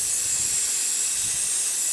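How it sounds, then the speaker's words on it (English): Spray cleaner, biodegradable chain degreaser, hisses steadily onto a Yamaha MT-09 (FZ-09) motorcycle chain, a continuous loud close-up spray lasting the whole moment with no break. "I use biodegradable chain cleaner."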